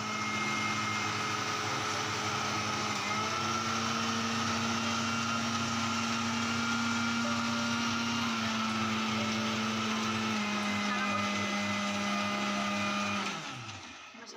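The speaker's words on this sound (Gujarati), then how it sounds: "લાવો બધા મસાલા બહુ બધા ભેગા થઈ ગયા છે તો મિક્સરમાં દળી દઈએ" A mixer grinder runs continuously, grinding cumin and other spices with a loud, steady motor whine that shifts pitch slightly as the load changes, then winds down at the end.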